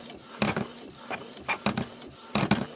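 A Canon G3411 inkjet printer carriage runs along its rail with a rasping slide, broken by repeated sharp knocks in small clusters. The noise is close and there is no speech.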